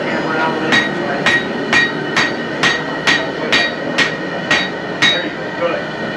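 Hammer blows struck at a steady, even pace, about a dozen sharp metallic knocks over several seconds, clear and fairly close above a constant background hum.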